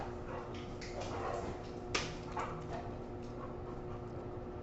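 A dog indoors gives a few short barks and whimpering yips over steady room noise, one sharper bark standing out near the middle; no one speaks.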